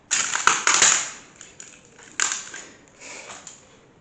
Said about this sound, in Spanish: Está todo lleno de cristales, es muy difícil no pisar ninguno.